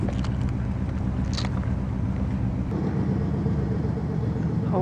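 A car drives along a snowy road scattered with potholes, heard from inside as a steady, close, low engine and road rumble with a few faint clicks and knocks over it.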